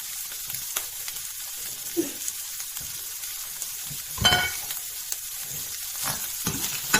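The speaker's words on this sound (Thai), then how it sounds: "ผัดผักกาดดองใส่ไข่" Pickled mustard greens and egg being stir-fried in a pan, soft sizzling punctuated by intermittent spatula scrapes and clanks, one louder stroke midway.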